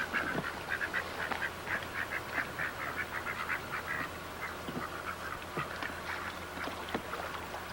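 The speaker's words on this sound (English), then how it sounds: "looks like we got plenty of ducks out here today." Several ducks out on open water, with bursts of honking quacks repeating steadily through the stretch, moderately close, over a constant low outdoor rumble.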